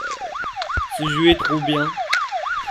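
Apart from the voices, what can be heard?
siren in a zombie video game (Withstandz)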